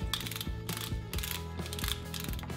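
A hand pepper mill grinds pepper into Caesar salad dressing, giving a rapid, repeated ratcheting crackle of close, crisp mechanical clicks in even bursts.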